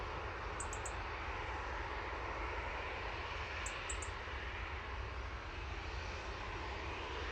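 A Ryanair airliner takes off at Manchester Airport, a steady broadband jet roar that holds at an even, moderately loud level throughout with no talk.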